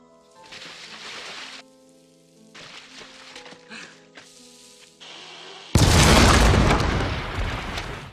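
Several faint crackling bursts and rumbles come first, then a sudden loud, broad explosion-like blast that lingers and slowly fades.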